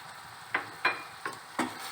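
Spices and tomato stirred and frying in a pan for an aloo gobhi sabzi, with four distinct scraping stir strokes over a soft, steady sizzle, close and fairly quiet with no talking.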